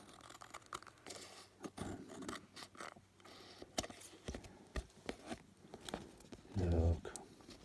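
Paper being trimmed with scissors for a design team journal project, quiet close snips and rustles scattered through the clip, with a louder handling burst near the end.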